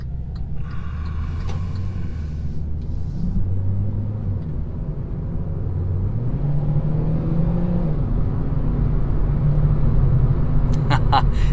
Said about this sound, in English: we're gonna give her the beans one last time